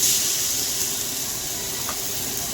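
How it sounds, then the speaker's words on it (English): Pork chops searing in about one and a half tablespoons of hot vegetable oil, a steady hissing sizzle that is loudest at the start and then holds even, with no talking. "We're going to take our pork chops and begin to sear it."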